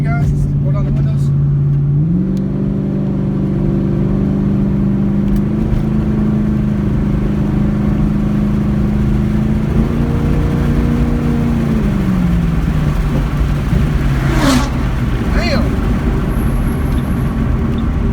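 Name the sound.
car driving and accelerating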